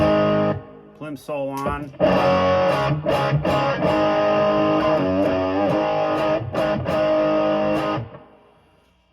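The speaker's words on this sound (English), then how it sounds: "Right here's the guitar directly into the Pro Junior." Electric guitar plugged straight into a Fender Pro Junior amp miked with a 57, with slightly distorted sustained chords and bent notes ringing out loud before fading, and a short spoken phrase near the start.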